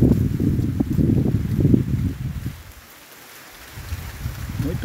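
Strong August wind blows across a rural farm plot, a broad low roaring rush that swells and gusts, dips to near quiet midway, then builds again, close and steady with no voices.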